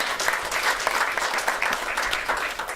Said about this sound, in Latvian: Vētraini aplausi.